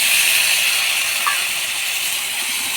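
Spice paste of ground ginger, green chilli and cumin sizzles loudly in a pan with drumstick stalks and potatoes, a steady close hiss with no talk.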